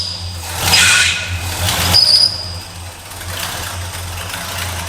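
A 1960s Ford Galaxie engine runs steadily after being cranked, a continuous low rumble with a strong steady idle throughout and a brief louder burst of higher-pitched noise early on.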